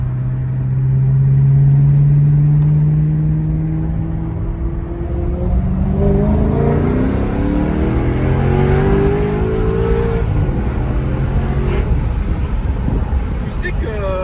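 A 440-horsepower sports car engine cruising and pulling steadily around 3000 rpm, its rising tones sweeping upward as it accelerates, heard from inside the car with people talking over it throughout.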